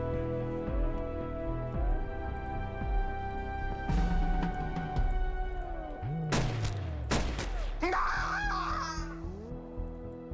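Gunfire crackles in the XPiratez video game as enemies are shot, several sharp bursts and booms over looping game music.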